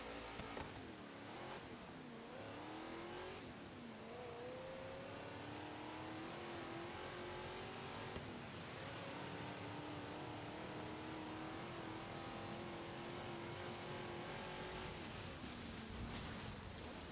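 The Chevrolet Napalm Nova from the Hoonigan car pack in Forza Horizon 3 revs and accelerates, its engine note repeatedly climbing in pitch through gear changes, sustained and fairly faint with no talking.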